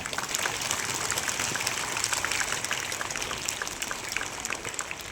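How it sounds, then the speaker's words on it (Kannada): Audience applause after a school students' performance at a Kannada Rajyotsava celebration, a dense, steady wash of many hands clapping that holds at an even level throughout, with no talk over it. "ಪ್ರದರ್ಶನಕ್ಕಾಗಿ ಮತ್ತೊಮ್ಮೆ ಜೋರಾದ ಚಪ್ಪಾಳೆ."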